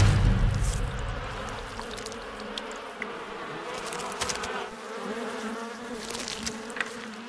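Bees swarm around a hive during honey harvesting, making a dense, continuous buzzing drone that is loudest at first and then holds steady close by, with no voices.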